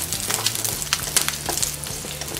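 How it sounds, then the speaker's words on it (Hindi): Bell pepper (capsicum) pieces fry in hot oil in a kadai, a close, bright crackling sizzle with light stirring scrapes, steady throughout and without speech. "इसी ऑयल में अभी हम ये थोड़ा सा शिमला मिर्च फ्राई करके लेते हैं।"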